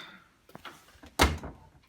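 A WMA40 washing machine door with a door-lock interlock fault is pushed firmly shut, giving one loud, close thud after a few lighter knocks and handling noises.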